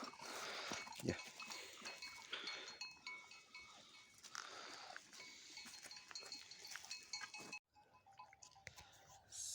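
Newborn Bafra lambs bleat outdoors on a farm, their cries mixed with rustling and other livestock noise in a continuous, moderately faint scene without talk.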